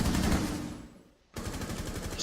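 Light machine gun fire in Rainbow Six Siege on the Coastline map, a loud rapid burst of rattling shots that trails off, then a sharp second burst of fast repeated fire close by.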